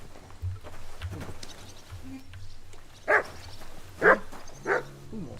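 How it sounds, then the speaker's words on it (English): A dog barks in the video game Kingdom Come: Deliverance II, with three loud close barks spaced about a second apart and a voice speaking over the background. "What are you barking for?"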